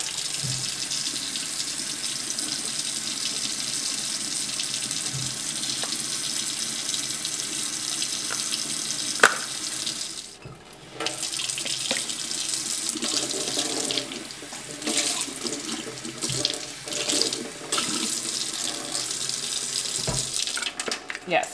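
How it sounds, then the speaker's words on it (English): Tap water runs steadily into a sink while small fermentation jar airlock valves are rinsed out, a continuous close splashing hiss with brief interruptions and shifts as the valves move under the stream. "rinse them out, and put clean water in"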